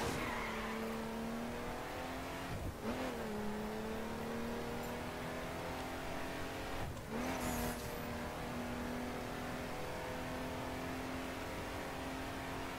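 A Jeep Wrangler Rubicon engine in The Crew drones steadily while driving off-road, holding a long gear with a couple of quick shifts where the pitch drops, with faint tire noise, heard alone and fairly quiet.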